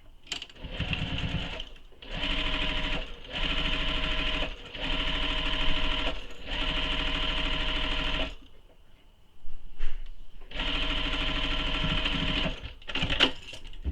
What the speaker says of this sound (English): we're going to sew those raw edges together